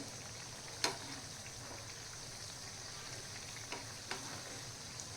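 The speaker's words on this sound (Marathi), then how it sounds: "खालची बाजू अशीच छान फ्राय करून घेऊया" Bread pakora frying in hot oil: a quiet, steady sizzle runs throughout, with a few faint crackles and pops rising above it and no talking.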